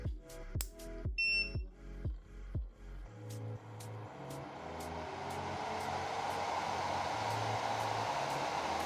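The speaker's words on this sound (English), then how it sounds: "Nobody's claiming that any dust collector is noise free, but this is much less aggressive." A WowBao dust collector starts up in a workshop after a few knocks and clicks. Its steady broadband whir then runs on continuously at moderate loudness, with faint intermittent high beeps above it.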